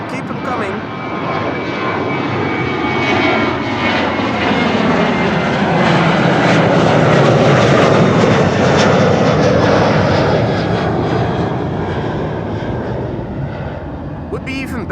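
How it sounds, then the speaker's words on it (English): A Qatar cargo jet on approach to Amsterdam Schiphol roars loudly and steadily overhead, a broad engine rumble swelling through the middle of the pass and easing slightly toward the end. "One Qatar cargo coming in over at Harden now"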